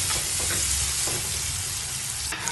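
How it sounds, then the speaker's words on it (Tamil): Fish sizzles loudly in hot oil for a Jaffna-style fish curry, a dense, continuous crackling hiss with no voices. "நான் மீன் கறி வந்து நான் இன்றைக்கு நான் பொரித்து வைக்கிறேன்."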